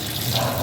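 Water poured from a tap or jug over pumpkin in a cooking pot for a Jamaican curry pumpkin dish, a brief steady splashing rush heard alone.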